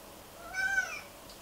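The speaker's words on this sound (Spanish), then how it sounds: "¿Por eso lo haces miau?" A pet cat gives a single short, fairly faint meow from close by, with no talking over it.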